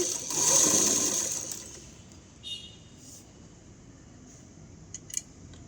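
Sewing machine running a short burst along the piping of a lined blouse, a bright whirring hum in the first second and a half, then quiet with a few faint clicks and taps.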